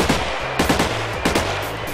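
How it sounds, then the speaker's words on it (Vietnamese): Loud, rapid gunfire from a gun in the video game Minecraft PE, several quick bursts of sharp shots in close succession, with no voices. "súng này bắn nghe điếc tai quá"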